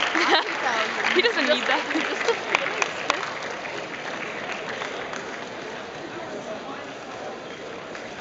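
A crowd at the 2013 Rubik's Cube World Championships applauds the 3x3x3 champion. The clapping is dense and steady, louder at first and then settling, with a voice speaking briefly over it.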